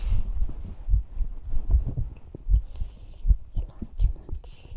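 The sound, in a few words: heartbeat heard close up, ASMR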